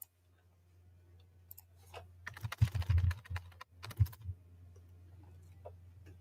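Typing on a computer keyboard with a backlight that isn't lighting up, scattered clicking keystrokes that build into a quick close burst, then pause and trail off, with mains hum underneath.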